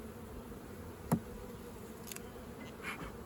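Honey bees buzzing during a swarm trap transfer in a beekeeping yard, a steady low drone of many insects with one close bee zipping briefly past, no talking.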